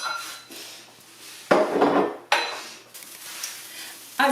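Dishes and utensils being cleared off a kitchen counter while cooking, a run of close clinks and clatters with two louder bursts of dish and cutlery noise.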